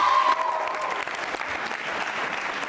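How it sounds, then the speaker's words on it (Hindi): Audience at a school quiz show applauds a contestant, Neeraj Goswami, with a sustained patter of many hands clapping, already under way and holding steady, with a brief voice heard at the start. "नीरज गोस्वामी जी के लिए तालियां बजा दीजिए फिलहाल से"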